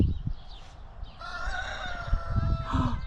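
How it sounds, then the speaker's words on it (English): A rooster crows at the hilltop fortress of Acrocorinth in Greece, a long, clear, drawn-out call rising over outdoor wind and low rumbling, fairly close and strong, with a shorter second crow starting near the end. "Did you hear the rooster?"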